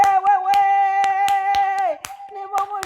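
A church congregation claps sharp, rhythmic hand claps roughly every half second during a morning worship song. Sustained sung voices run underneath the clapping.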